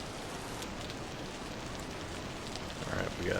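Steady rain falls in the video game Vintage Story, a dense, even hiss of drops on surfaces that swells slightly toward the end, with no speech.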